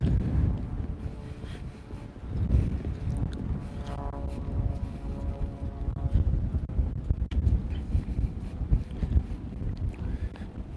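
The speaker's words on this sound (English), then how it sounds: "very, very windy here today" Strong wind gusting across a deck by the water, a loud continuous rush of buffeting microphone noise with faint water and boat sounds underneath.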